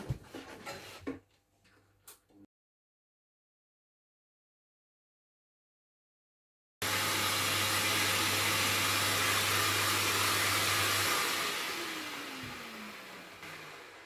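A power tool cuts small mortises in wood for a changing table: after some quiet handling clicks and a long silence, a loud steady whining roar starts abruptly and runs for several seconds before winding down.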